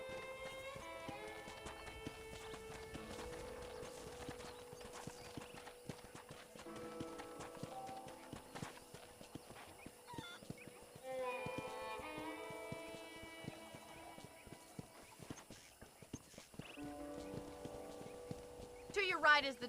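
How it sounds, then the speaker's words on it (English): Horse hooves clip-clopping in Red Dead Redemption while riding around a ranch, a steady rhythmic trot close by with an occasional whinny, mixed under western music and spoken dialogue. "let's see if you can still ride a horse"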